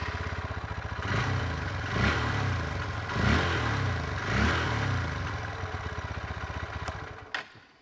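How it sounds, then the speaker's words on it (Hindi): The 2024 Hero Xtreme 160R 4V motorcycle runs close by, a steady idling exhaust note rising in three or four short revs before settling back, ending with a couple of clicks. "मैं आपको इसका एग्जॉस्ट नोट सुना देता हूँ।"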